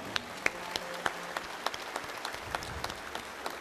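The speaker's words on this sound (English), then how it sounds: "Let's give them a nice round of applause." Steady applause from an audience, a dense patter of clapping with a few sharper individual claps standing out.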